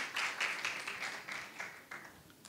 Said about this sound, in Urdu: تو آئیے تالیاں بجا کر انہیں ویلکم کرتے ہیں